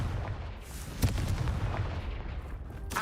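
Confringo explosion spells from Hogwarts Legacy, a few booming blasts with sharp cracks, one strong hit near the middle and another at the end, over rumbling low background.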